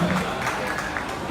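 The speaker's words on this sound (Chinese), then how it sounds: "掌声！" Brief applause from an outdoor crowd welcoming a female pop singer at an anniversary celebration stage show, a dense patter of clapping at moderate level with a faint voice underneath.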